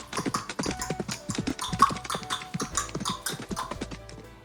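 A voice imitates a galloping horse with a rapid, rhythmic clip-clop of tongue clicks. The clicks come close and steady in quick repeated pairs throughout.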